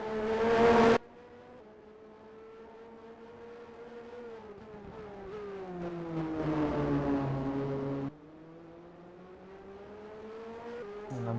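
Race car engines in a Formula One racing video game, with a car being chased by a Ferrari at Jerez, hold a sustained high-pitched whine that rises and falls steadily through gear changes, loud and close, with no talk over it.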